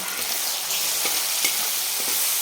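Spring onion mixture with chilli fries in hot oil, giving a loud, continuous sizzle with a few faint scrapes from stirring.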